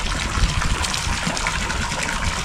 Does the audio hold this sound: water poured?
yes